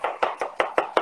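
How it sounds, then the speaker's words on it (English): A knife chops garlic on a board in six quick, evenly spaced strikes, each a crisp, fairly loud thud with no talking. "Let's start chopping"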